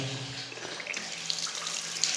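A toilet tank refilling after a flexible pipe fitting job: a steady, close rush of water with a faint tonal hum running underneath.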